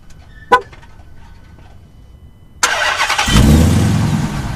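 A 2019 Dodge Challenger Hellcat Widebody engine starts up: a brief sharp click, a pause, then the starter catches and the engine barks into a loud, rough, rumbling idle close by.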